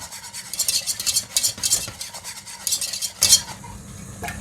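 A spoon works through a sauce in a pot for veal tongue with olives and mushrooms, scraping in a steady rhythm of short bursts, with faint sizzling and a few clinks of metal against the pan.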